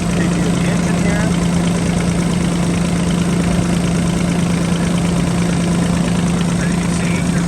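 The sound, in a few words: Bobcat E26 mini excavator engine idling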